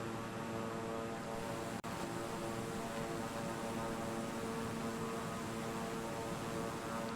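Steady, dense drone of a King Air turboprop cabin in flight on a Flying Doctors run between Coober Pedy and Curtain Springs, with constant propeller hum and engine harmonics, loud and unbroken apart from one tiny click.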